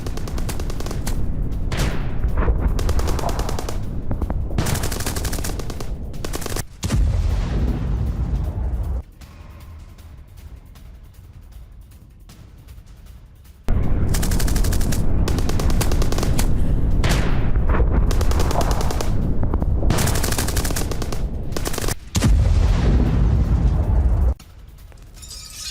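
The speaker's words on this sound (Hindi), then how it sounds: "ताबड़तोड़ गोलियां बरसाई गई हैं ड्रोन पर" A Ukrainian soldier fires at a Russian drone in rapid sustained bursts of automatic gunfire. The loud, close shooting pauses several times in between, and no voices are heard.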